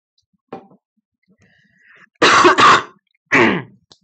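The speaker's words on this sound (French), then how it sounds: "j'ai une petite toux" A woman with a slight cough clears her throat indoors, a small hack followed by two harsh throat-clearing bursts and another cough, close and loud between silences.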